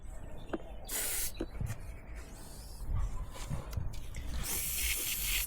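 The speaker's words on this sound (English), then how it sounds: "Just spray some on these connections as well." Short bursts of aerosol spray hissing close by onto the electrical connectors of a Honda VFR 400 NC30 motorcycle, a few separate blasts with a longer one at the end, amid handling noises.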